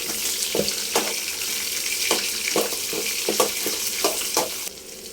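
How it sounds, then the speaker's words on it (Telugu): Green chillies and onions sizzle in hot oil in a pan for cashew upma, with a steady fry broken by repeated scraping stirs before the sizzle drops off near the end. "తర్వాత పచ్చిమిర్చి వేసుకొని వేగనివ్వాలి తర్వాత ఉల్లిపాయలు వేసుకొని కొంచెం వేగనేయాలి"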